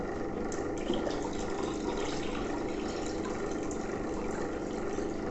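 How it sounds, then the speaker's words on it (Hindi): Water pouring steadily into a bottle as part of a homemade water-tank overflow auto-switch setup, a continuous close rushing stream with a faint motor-like hum beneath, no speech. "देखिए पानी जैसे जैसे डाल रहा हूँ, बोतल का ऊपर आ रही है, पानी का लेवल बढ़ रहा है।"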